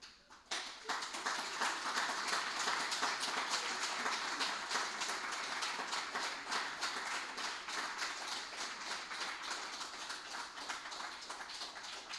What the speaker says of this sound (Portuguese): Vamos bater uma salva de palmas a Ele.